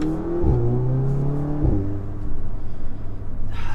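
An Audi A3/S3 MK7 fitted with a throttle response mod accelerates hard, its engine note climbing through two quick gear changes, loud and close from inside the cabin.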